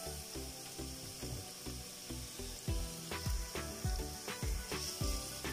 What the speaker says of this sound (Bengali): আদা রসুনটাকে 2-1 মিনিট ভেজে নিয়েছি আমি